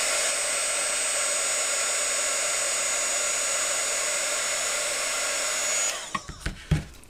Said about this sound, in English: I'm going to heat that down just to make sure it stays.